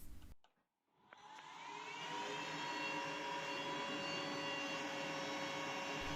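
A WeCreat Vision 20 W laser machine starts up after a short silence, its fan and exhaust building into a steady, even whir with a faint tonal hum while cutting, close and unbroken.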